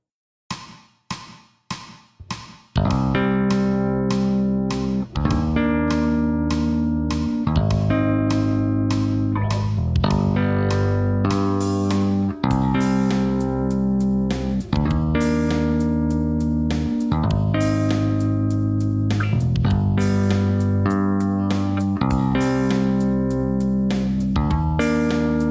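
A bass guitar taps extended chords with the right hand, opening with a few sharp separate tapped notes, then moving into a sustained, rhythmic run of ringing chord patterns that stays loud and clear throughout.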